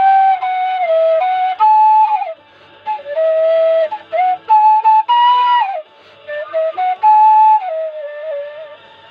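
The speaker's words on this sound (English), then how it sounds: "I feel like playing some low D whistles" A low D tin whistle plays a short melodic phrase of breathy, sustained notes with quick slides and ornaments, loud and close, broken by brief pauses and with no talking.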